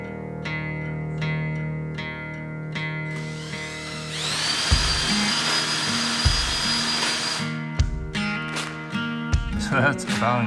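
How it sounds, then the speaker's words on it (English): A power drill bores into a wooden floor joist, its motor whining loudly for several seconds mid-clip between shorter bursts and clicks, close by. "my drill's bottoming out here"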